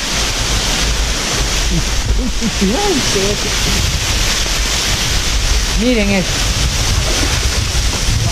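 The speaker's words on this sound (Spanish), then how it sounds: "unas cascadas que hay aquí en la Cueva del Oso" Twin waterfalls at Cueva del Oso along a river make a steady, loud roar of rushing water with wind buffeting the microphone, while people talk over it.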